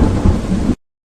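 A loud rumble of thunder with heavy rain, booming close and full, then cut off sharply to silence after under a second.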